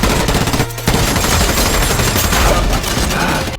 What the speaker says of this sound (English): Bane shot him without hesitation.